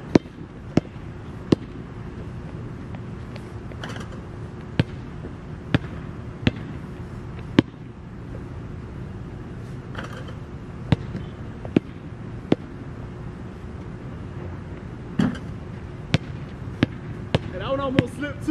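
Basketball being bounced and shot, sharp isolated thumps spaced irregularly over a steady background hum, with a voice talking in places.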